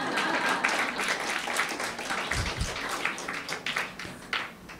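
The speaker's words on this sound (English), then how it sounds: "Clap if you want, no problem." An audience at a meditation talk claps, a loose round of applause that thins out toward the end, with scattered individual claps standing out.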